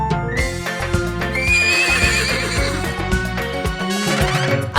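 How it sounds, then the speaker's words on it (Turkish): A horse neighs and whinnies repeatedly within a loud children's farm song, the whinnies woven through bright music with clip-clop hoofbeats and no talking. "Burada kişner, orada kişner, kişner, kişner, her yerde kişner."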